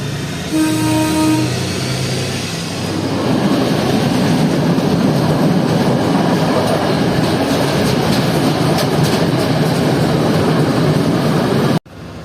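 A train on a Sri Lanka railway line running between small stations, heard as a loud, continuous rumble and rattle of carriages, with a brief tonal horn-like sound near the start, no talking.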